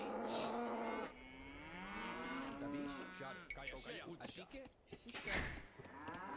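Cow lowing in Age of Empires during an Arena match, with several drawn-out moos in a row that rise and fall in pitch, loud and close, followed by a busier stretch of game sounds.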